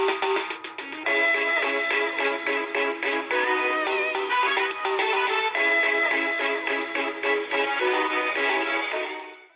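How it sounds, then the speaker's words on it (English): Theme music from the Kenyan stand-up comedy television show Churchill Show, a loud, dense musical passage with steady rhythmic accents that plays throughout, fading out at the very end. "What you just heard are the theme songs to a very popular Kenyan stand-up comedy"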